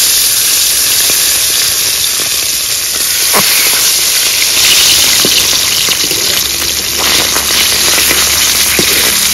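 Pomfret fish frying in hot oil, a loud, constant close hiss and sizzle with a few sharp crackles and spits popping through, no voices.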